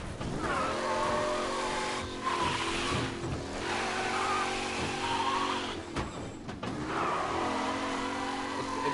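One of the fastest cars in a crime-drama driving game roars along, its engine climbing through repeated gear shifts with brief dips and faint tire squeal, loud and close with no talking.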